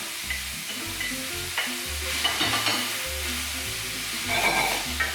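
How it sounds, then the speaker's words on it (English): Mushrooms and chorizo fry in a hot pan, a steady close sizzle broken by repeated scraping and clatter as they are stirred. "So we go in now, nice heat. I'm going to add the mushrooms and the chorizo now."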